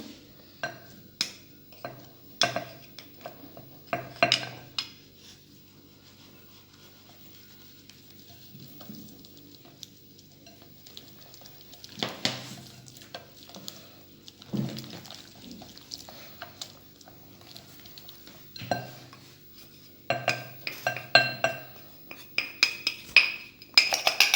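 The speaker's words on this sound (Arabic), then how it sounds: "وحنا كنخلطو. كنزيدو الفرينه بشويه بشويه" Stirring quiche batter in a bowl while flour is added bit by bit, heard as scattered scraping and clinking taps of a utensil against the bowl with quiet gaps between, close and fairly soft.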